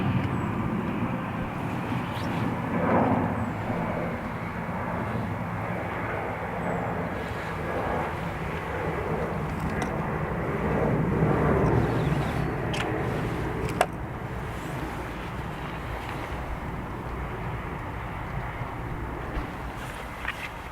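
A Lufthansa airliner from Munich at Dublin Airport, a broad, steady jet rumble that swells and fades across the whole stretch, heard from a distance with a sharp click partway through.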